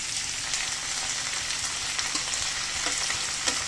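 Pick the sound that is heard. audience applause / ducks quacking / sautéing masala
sautéing masala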